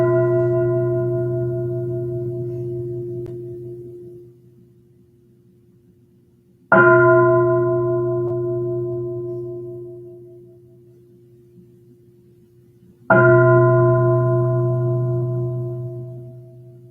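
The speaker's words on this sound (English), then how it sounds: "Let's listen to 3 sounds of the bell before we begin our guided meditation." A meditation bell is struck three times at evenly spaced intervals, each strike ringing out clearly and decaying slowly into quiet before the next, all heard alone with no voices.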